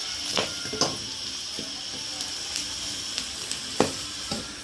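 Chopped onions frying in a pan as tamarind juice goes in for tamarind rice, giving a steady close sizzle punctuated by a few sharp spoon clinks against the pan.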